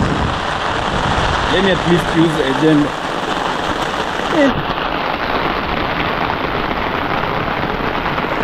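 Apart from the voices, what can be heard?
rain falling on a house under construction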